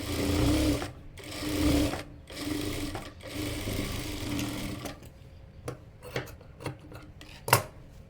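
A sewing machine stitches a double seam on a fatua for a five-year-old child, running in several short whirring bursts before slowing into sparse clicks and taps of the fabric being handled.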